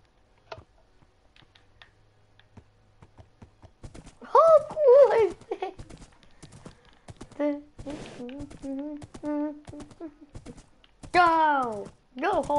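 Rapid clicking hoofbeats of a trotting horse in Minecraft run through the clip while a person talks excitedly over them.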